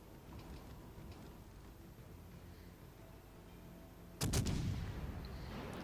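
Naval guns fire a salvo in the naval combat game World of Warships Legends: a sudden heavy boom cluster strikes near the end, after several seconds of quiet low rumbling game ambience, then fades into a lingering roar.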